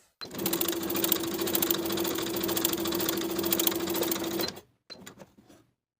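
A sewing machine runs basting stitches on a blouse bodice piece with a steady, close, even whir for about four seconds, then stops, followed by a short burst of handling noise.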